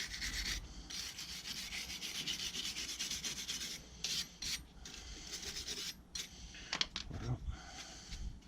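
A brush scrubs back and forth against the steering knuckle of a 2012 Seat Ibiza during a brake pad and disc change, giving a steady rasping rub with short pauses and a few louder strokes near the end.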